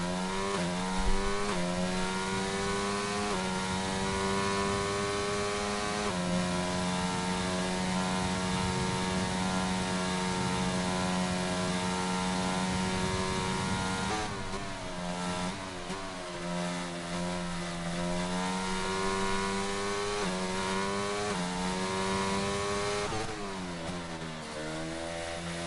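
Race car engines in a sim racing video game, a continuous high buzzing engine whine that rises and falls through shifts, braking and acceleration into corners, loud and sustained with no voices over it.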